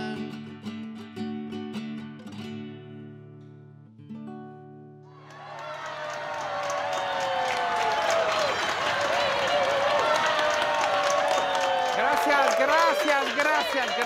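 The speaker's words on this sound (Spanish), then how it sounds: "Gracias, gracias por ese aplauso tan caluroso" After a few seconds of music, a studio audience bursts into sustained, warm applause that builds and stays loud and dense to the end, with a little cheering mixed in.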